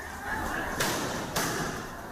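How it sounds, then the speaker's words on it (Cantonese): Riot police firing into a metro station during a protest, two sharp, loud cracks about half a second apart, echoing over a busy, noisy background. "警察再向站內開槍"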